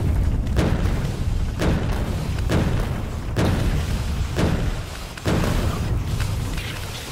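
Explosive uranium rounds fired in Factorio, heard as a steady run of loud, booming impacts repeating about every second over a dense rumbling roar.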